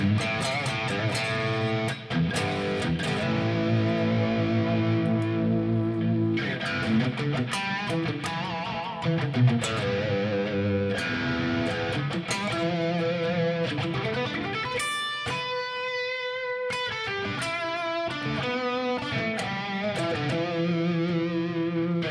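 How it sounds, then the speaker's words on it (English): Electric guitar played through a heavy distortion effect, with sustained chords and riffs that shift through changing notes, plus a brief cleaner melodic stretch in the middle, loud and continuous with no talking. "let's go to the heavy distortion."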